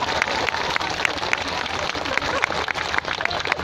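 Audience applause at a large outdoor political speech in Ipoh, Malaysia, dense, steady clapping from a big crowd of several thousand, sustained without pause and mixed with murmuring voices.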